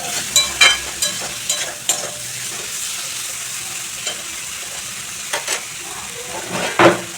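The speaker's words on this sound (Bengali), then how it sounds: "মশলার সঙ্গে একটু ঝিঙেটাও একটু লাড়াচাড়া করে নিচ্ছি বন্ধুরা।" Ridge gourd pieces being stirred with spices in a pan for a light rui fish curry with potato, a steady close sizzle broken by several scraping spatula strokes, loudest near the end.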